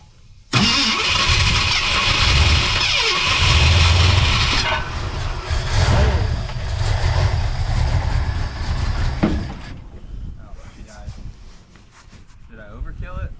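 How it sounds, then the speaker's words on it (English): Old cold Ford F100 pickup engine cranks and catches, then roars loudly and settles into a rough idle, close by, with a voice speaking briefly near the end. "It may be cold, but it started up"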